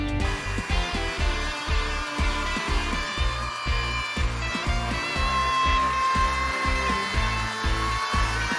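A saw runs steadily through 1/2 inch plywood along a clamped temporary guide, a continuous high motor whine over rapid rhythmic low thumping, loud and close.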